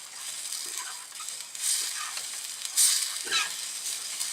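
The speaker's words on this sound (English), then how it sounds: "Alright, sounds like it's boiling to me." Chicken tinga bubbling and sizzling in a pot inside a van, with a few scraping stirs of a utensil, close and moderately loud.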